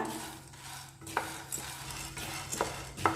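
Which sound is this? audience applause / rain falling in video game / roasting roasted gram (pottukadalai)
roasting roasted gram (pottukadalai)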